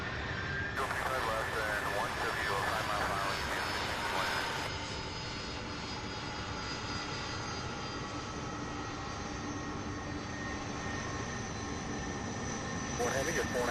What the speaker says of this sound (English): here comes another one. This one here, another Airbus A300 out of Oklahoma City